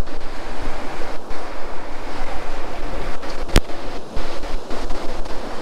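Sea waves break and wash up the shore close to an angler on the East Coast at Hornsea, a loud continuous surging roar with heavy wind buffeting the microphone.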